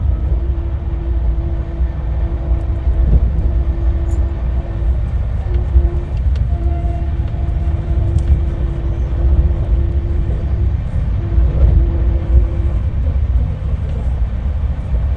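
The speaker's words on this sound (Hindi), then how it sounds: "ट्रेन का रन तो ज़बरदस्त है" Steady low rumble and rattle heard from inside a 2A sleeper coach of the Bhubaneswar–New Delhi Tejas Rajdhani Express in motion, a continuous loud drone with faint faraway voices in the background.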